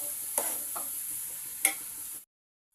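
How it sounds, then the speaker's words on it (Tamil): Onions sauté in a pan for biryani, with a steady hiss of frying and two or three scraping strokes of a stirring spoon, close by before the sound cuts off. "இப்போ நல்லா வதக்கிக்கலாம்."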